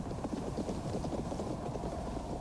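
Horse hooves clip-clopping, rapid steady beats of several horses moving together, loud and close over a rumbling low background with no voices.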